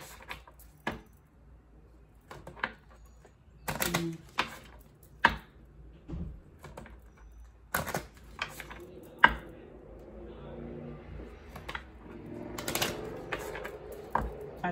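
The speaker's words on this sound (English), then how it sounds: "Okay, I shuffle it 6 times, then cut the deck." A tarot card deck is shuffled repeatedly by hand, giving sharp papery clicks and riffling bursts, close up, with quieter handling between shuffles.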